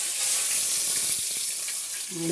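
A large manthal (sole) fish fries in oil in a pan, giving a steady bright sizzle and crackle throughout, with a faint low sound near the end.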